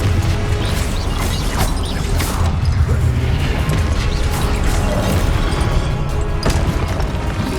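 Confringo fire spell blasts in the Hogwarts Legacy video game: dense, loud layered booms and crashing bursts rolling continuously over a low rumble, with impacts stacking one after another and no clear pause.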